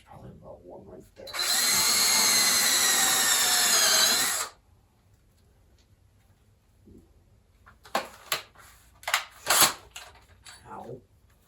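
A power drill runs steadily for about three seconds while boring holes to mount sink brackets, loud and close, then stops, followed by scattered clicks and knocks with some talk nearby.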